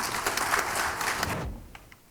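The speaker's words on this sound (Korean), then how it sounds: "박수로 모시겠습니다." An audience at a Korean discussion forum claps to welcome a presenter, the applause steady and fairly close before quickly dying away into near silence.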